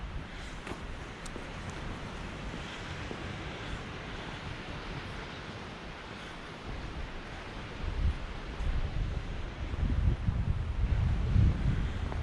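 Wind blowing steadily at the seaside in Paguera, Mallorca, a broad continuous rush with low buffeting gusts against the microphone that grow stronger toward the end, with no voices.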